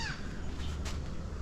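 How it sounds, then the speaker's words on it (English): Seagulls calling outdoors in the morning, a harsh squawk rising over a steady wash of wind or outdoor rumble. "The seagulls are out in full force right now."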